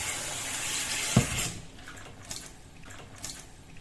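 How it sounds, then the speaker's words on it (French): Cold water runs from a kitchen tap into a sink, soaking a cloth: a steady close hiss of flow for about a second and a half, then a softer, duller trickle with a few small splashes. "Il suffit d'imbiber la toile Infume Nature avec l'eau froide au robinet."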